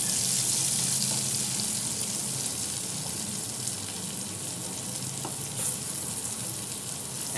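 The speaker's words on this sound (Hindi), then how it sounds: "अब हम डालेंगे अपना बड़ी कटा हुआ प्याज।" Chopped onions fry in melted butter for masala Maggi, giving a steady, loud sizzle throughout with a few faint clinks of stirring; no one speaks.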